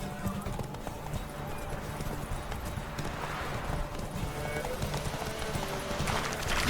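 A horse gallops in The Witcher 3 with continuous rapid hoofbeats and a steady rumble of movement, close and fairly loud, with no clear speech.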